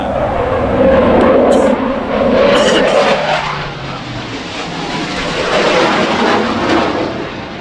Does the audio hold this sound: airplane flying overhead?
yes